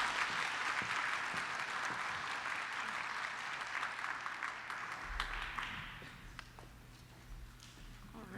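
An audience claps for a keynote speaker at a maths prize event for girls: dense, steady applause, loud at first, then thinning out and fading toward the end.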